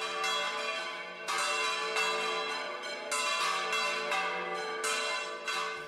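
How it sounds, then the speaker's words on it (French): Several church bells ring together in a dense, overlapping peal, with loud new strikes every second or so over a sustained metallic ringing. "c'est le festival des cloches. Un vrai concert de cloches"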